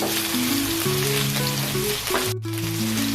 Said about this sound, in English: Fry the potato until a little bit brown